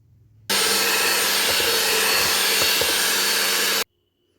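Electric hand mixer blending egg yolk mixture into beaten whites for a vanilla sponge cake, a steady loud whirring drone lasting about three seconds that starts and stops abruptly, with faint bumps from the beaters in the bowl.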